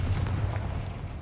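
The Confringo spell detonates in a wizard video game, a brief, heavy booming burst with a rumbling low-end tail, loud and close, with no voices.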